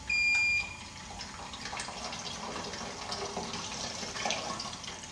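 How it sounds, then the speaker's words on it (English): Water pours into the top reservoir of a filter coffee machine, a steady close trickling and splashing that runs on without a break after a brief louder start. "So water in this machine goes straight in the top, so we'll pour that in."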